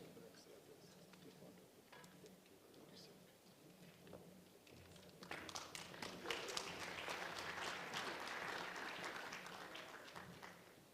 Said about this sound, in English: Only a third of the room clapped, and only the front.